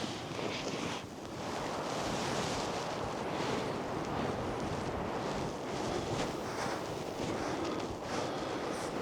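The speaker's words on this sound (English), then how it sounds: "the wind is still ripping through this little corridor here" Strong wind roars steadily through a narrow rocky corridor in the frozen Colorado backcountry, a loud continuous rush with gusty swells and buffeting against the microphone.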